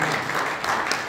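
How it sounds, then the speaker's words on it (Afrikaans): A congregation claps hands together at an Afrikaans live church service, giving a steady, moderately loud wash of applause that lasts the whole short moment, with faint voices mixed in. "Kom ons gee die Here 'n hande klap"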